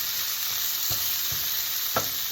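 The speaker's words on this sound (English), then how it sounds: "Now I add the onions. And let it cook for a while" Onions frying in a pan for a Sicilian pepperonata, a steady close sizzle with a few soft stirring scrapes across the short stretch.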